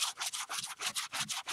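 Sandpaper scrubs across a painted surface on a layered painted heart piece. About eight quick, even back-and-forth strokes sound close and loud, with no talking.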